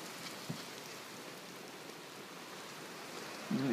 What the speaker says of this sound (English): This is, in fact, small pea-sized hail coming down right now because of how convective this is.